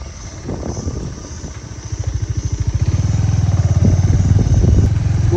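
A motorcycle engine, freshly given an oil change, putters at a low idle and then settles into a louder, fast rhythmic thumping close by.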